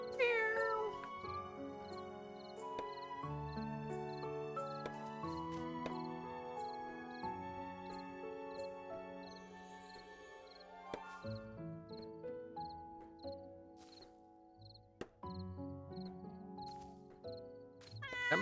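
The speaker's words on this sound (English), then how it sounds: "That must actually just be a white cat that just looks pink in the light." A white cat in a video game meows repeatedly over gentle, plucky background music, with faint meows and small clicks scattered through a long stretch.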